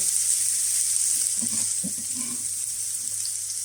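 Vegetables sizzle in olive oil in a pan for a homemade tortilla, a steady, fairly faint hiss with a few soft clinks and shifts underneath and no voices.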